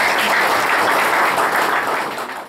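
An audience at a Mother's Day church gathering in Malaysia claps loudly in a dense, continuous burst of applause to welcome people, fading slightly at the end.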